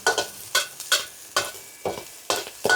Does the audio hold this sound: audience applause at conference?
no